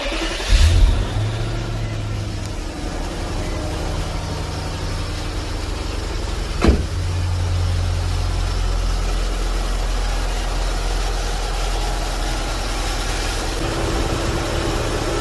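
An Infiniti M45 with a VK45DE V8 cranks over and catches at once, then settles into a steady, close, low idle that runs on evenly with no talk over it.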